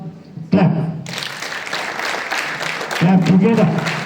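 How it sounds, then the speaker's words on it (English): Students at a school assembly clap their hands together in a dense burst of applause that starts abruptly and carries on steadily, with an adult voice calling out instructions at the beginning and end. "Hands up. Clap."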